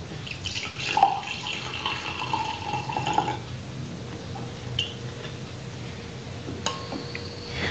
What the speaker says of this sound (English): This is the wine poured straight from the bottle.